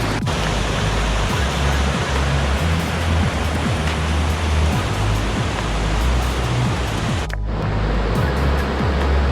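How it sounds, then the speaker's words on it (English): The Tallulah River in Georgia rushes fast through a rocky corridor between sheer cliffs, a loud, dense, unbroken roar of churning water heard close and steady. "create the ultimate vacuum for this water coming down as fast as possible"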